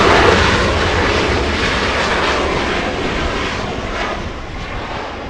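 A Japan Airlines heavy jet takes off at Los Angeles International Airport with a loud, broadband engine roar that holds steady and slowly fades as the plane moves away. No voices are heard.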